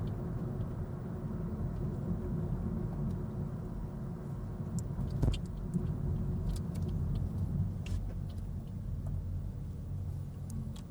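Tire roar from a Honda BR-V cruising on rough asphalt through a housing area at around 60, a steady low rumble with faint ticks and bumps, no talking.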